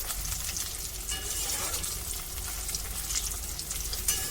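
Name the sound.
food frying in oil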